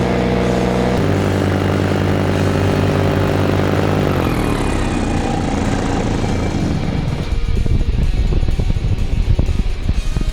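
Paramotor engine droning loudly in flight during a paramotor championship, a steady buzzing tone whose pitch drops partway through as it winds down, then rough wind buffeting dominates.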